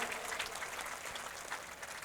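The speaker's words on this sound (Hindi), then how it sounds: "मैं चाहता हूं कि एक बार आप सब लोग जोरदार तालियों के साथ हमारे अख्तरुल इमाम साहब का स्वागत करें" Audience applause at a Hindi-language political rally in Sheohar, a steady moderate clatter of clapping hands filling the space without a break, with no voices rising above it.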